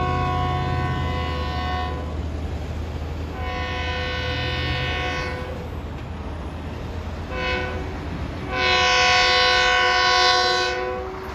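A Long Island Rail Road commuter train rumbles past at Pinelawn with a steady rolling roar, sounding several long horn blasts, the last one loudest and closest.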